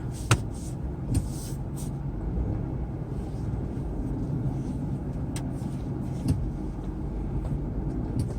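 A Kia Morning small city car eases slowly away from a stop after six months unused, its engine rumbling steadily and low from inside the cabin with a few light clicks and knocks.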